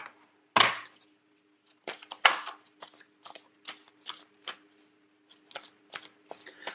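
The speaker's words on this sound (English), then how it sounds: "I'm going to pull out 5 cards." Tarot cards shuffled and pulled, a sharp riffle burst near the start followed by a series of quick crisp card slaps and flicks at irregular intervals, close and quiet, with no talk.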